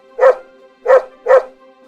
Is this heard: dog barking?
yes